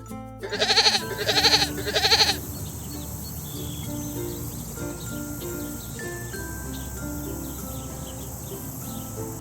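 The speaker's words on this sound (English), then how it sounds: "G for goat." A goat bleats three times in quick, loud succession, then falls silent, leaving a soft background of chirping insects.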